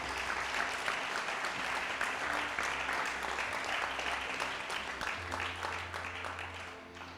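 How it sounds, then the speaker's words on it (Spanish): A church congregation claps during a Spanish-language sermon, giving a steady wash of applause at moderate to low level, with a low sustained tone running underneath throughout. "Dale aplauso a Jesús."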